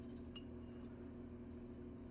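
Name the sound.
tapping a solid metal ring to size it up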